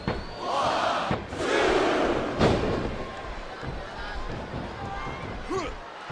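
Arena crowd noise in the wrestling video game WWE SmackDown vs Raw 2007 roars and swells, punctuated by ring thuds and slams, with commentators' voices heard over the din.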